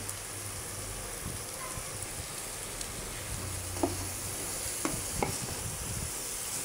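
Fish curry of hilsa with vegetables stirred in a pan after salt goes in, a soft steady scraping and faint sizzle with a few sharp clinks of the spoon near the end, no talking.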